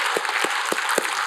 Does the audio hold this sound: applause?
yes